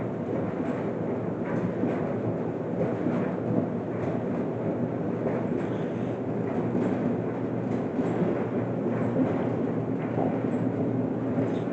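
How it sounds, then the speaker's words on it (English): Inside a Maytag gas dryer heating up, the gas burner fires with a constant, fairly loud broadband roar and rumble, blended with the soft churn of the drum, unbroken and free of speech. "that's the sound of the fire going as the dryer is heating up"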